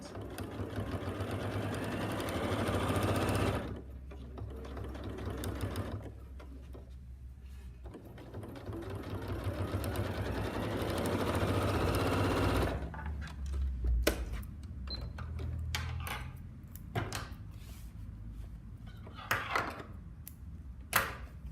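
A sewing machine runs long continuous stitching passes along a seam in shower proof fabric, close and steady, with a pause midway and fabric handling and clicks near the end.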